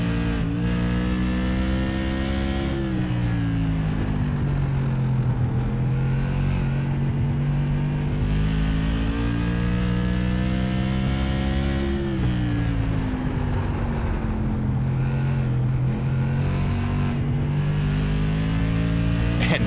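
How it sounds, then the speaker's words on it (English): Race car engine heard onboard during a lap of Stafford Motor Speedway, a loud, continuous roar that rises and falls through the gears and corners for the whole stretch, with no talk over it. "This is 18 seconds of engine."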